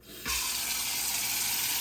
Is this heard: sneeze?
no